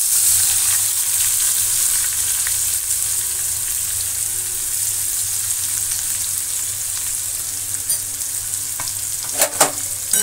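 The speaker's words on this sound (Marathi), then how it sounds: "हिंग घातल्याच्या नंतर आपल्याला चिरून घेतलेला कांदा घालायचा आहे।" Chopped onion sizzles steadily in hot oil with asafoetida in a pan for masala rava idli, a bright continuous hiss with a few soft stirring clicks near the end.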